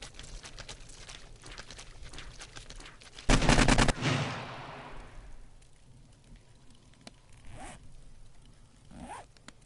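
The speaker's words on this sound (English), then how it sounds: "AK-47 time." AK-47 fire in the video game 7 Days to Die on PS4: a single short, loud burst of automatic shots that cuts off abruptly and leaves a fading tail over quiet game ambience.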